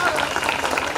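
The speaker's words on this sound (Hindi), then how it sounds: "तालियां बज रही, तालियों में तो कंजूसी न किया जाए" Audience applause at a 2023 educational encouragement ceremony held by the Pasi community, a dense patter of clapping that fills the whole second, mixed with voices.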